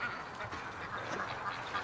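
Ducks quacking at a distance during a live outdoor stream, faint scattered calls over a steady background hiss and ambient noise.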